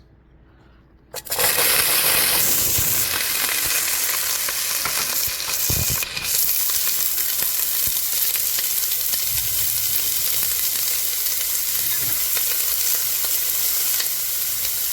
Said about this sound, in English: We're gonna get ready to sweat some onions